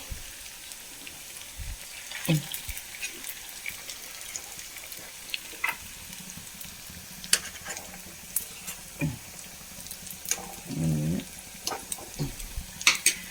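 Potato pakoda deep-frying in hot oil, a steady soft sizzle with scattered crackles and pops, plus a few sharp scraping and stirring knocks as the fritters are turned one by one.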